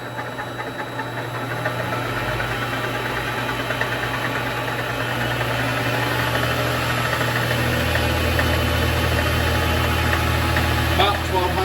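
Vevor MX 400 mini lathe spinning up, a steady mechanical hum and whir that grows slightly louder and holds at speed, continuous and close.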